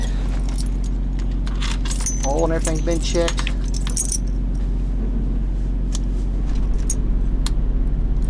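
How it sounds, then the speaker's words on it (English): A bunch of keys jangles close up, with several bright metallic clinks and rattles clustered in the first half, while a motorhome's diesel engine idles steadily underneath and someone speaks briefly. "To get all my gaggle of keys out of here."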